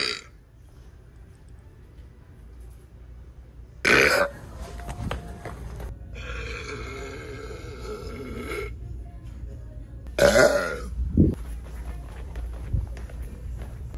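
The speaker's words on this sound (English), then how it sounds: "today we're going to be burping in one" Two loud, drawn-out burps ring out inside a Walmart store several seconds apart, each sudden and close, over a quieter background of store ambience and faint voices.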